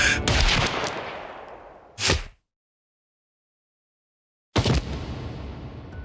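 Gunshot sound effects: a sharp burst of shots with a decaying echo, a single loud crack, then total silence for over two seconds before another shot rings out and reverberates away.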